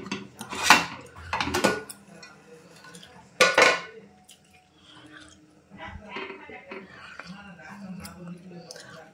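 A steel tiffin box is opened, sharp metallic clanks and scrapes of steel lids and containers up close, interspersed with quieter handling, while a person talks.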